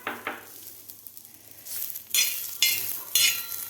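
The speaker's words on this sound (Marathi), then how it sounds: "आता याच तव्यामध्ये आपल्याला कांदा सुद्धा भाजून घ्यायचा आहे" Onion dry-roasting on a griddle without oil, with soft sizzling and repeated scraping strokes of a spatula that come in three louder bursts near the end.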